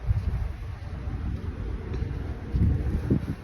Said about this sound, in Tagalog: Yan humahangin-hangin pa po.